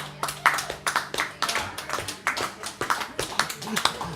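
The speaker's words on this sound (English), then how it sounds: "So the guys in the band required to clap?" Band members clap after a live song in a show setting, a loose patter of a few pairs of hands with irregular sharp claps, close and moderate in volume, while people talk over it.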